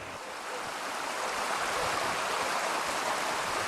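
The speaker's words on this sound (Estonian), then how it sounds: "Minu kohal viibimise ajal oli aga veehulk ojas nii võimas, et uputas astangud üle" A swollen stream in Ida-Virumaa, Estonia, rushing over small stepped rapids, gives a steady, loud, broadband wash of water noise that holds for several seconds with no voices.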